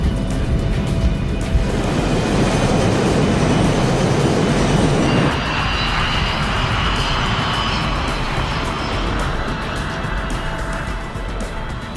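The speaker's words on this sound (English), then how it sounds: "a British-built BAE 146 commuter jet. With quiet turbofan engines" Steady, broad roar of a BAE 146 jet's turbofan engines fills the whole stretch, loud and continuous, with a slight shift in tone partway through as the rumble settles.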